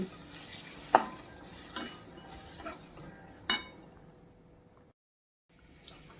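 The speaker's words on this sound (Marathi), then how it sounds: "आणि मस्त हलवून घेऊ" Sliced potatoes tossed into hot spiced tempering for a Marathi dry potato sabzi, with a steady sizzle and several sharp scrapes and clanks of a spoon stirring in the pan, then a brief silence before the stirring resumes.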